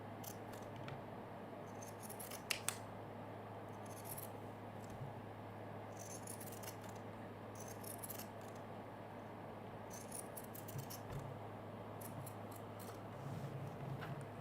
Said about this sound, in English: I'm going to use pinking shears, and I'm going to come in as close as I can